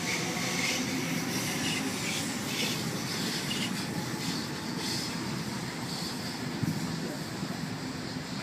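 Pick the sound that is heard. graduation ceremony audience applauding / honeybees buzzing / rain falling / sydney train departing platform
sydney train departing platform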